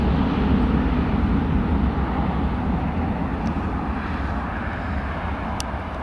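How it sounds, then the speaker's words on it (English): An Airbus A321 airliner on the runway at Newcastle Airport, a loud, steady deep jet engine roar that fades slightly over the span, heard from nearby with no talk. "I do like the sound of a good Airbus A321"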